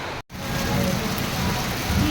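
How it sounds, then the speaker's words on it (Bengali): Heavy rain pours down during a strong storm, a dense, loud, continuous roar of drops on surfaces, broken only by a brief dropout near the start. "কি হারে বৃষ্টি হচ্ছে"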